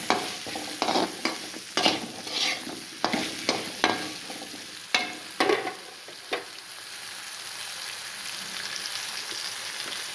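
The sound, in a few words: onion frying in pan for mukkala pulusu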